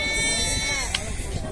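Goats bleat at a livestock market in Ganja, a brief animal call heard near and under a busy, crowded layer of voices and market chatter.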